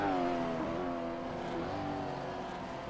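V8 Supercars racing at the Detroit Belle Isle street circuit, engine notes whining and sliding downward in pitch as cars pass at a distance, a continuous roar fading slightly toward the end.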